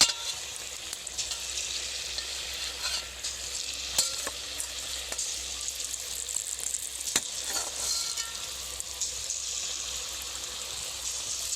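Taal bora batter frying in oil in a wok, a steady bubbling sizzle that holds for several seconds with occasional soft pops and clicks, close and fairly quiet.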